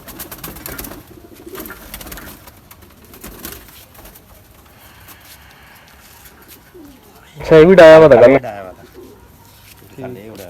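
Pigeons coo in a rounded, throaty call that bursts out loud and close for under a second, while men chat casually before and after it.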